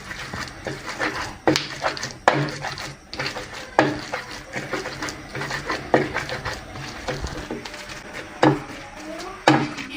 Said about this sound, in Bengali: এটা বটবটি গুলো নিয়ে নিয়েছি, এখন এগুলো একটু বেটে নেব।